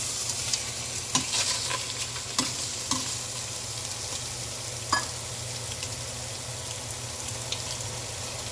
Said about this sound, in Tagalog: Luto ko lang tong ating shrimp